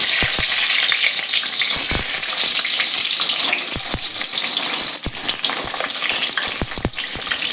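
Eggplant frying in hot oil, a loud continuous crackling sizzle with frequent sharp pops and spatters, close up.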